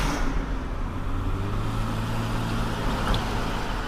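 A car speeding up toward a traffic light, heard as a close engine hum whose pitch climbs steadily with road noise underneath, and no talk.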